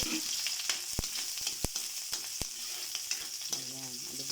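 Eggs sizzle and fry steadily in a pan for egg adobo, a close, continuous crackle broken by a few sharp utensil clicks against the pan.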